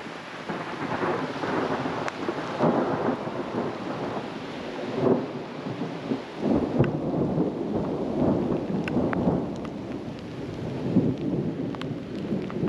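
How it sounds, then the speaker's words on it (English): Heavy rain pouring down on a hiking trail in Rocky Mountain National Park, with deep rolling thunder rumbling through a steady, dense wash of rain for the whole stretch. "Big old thunder."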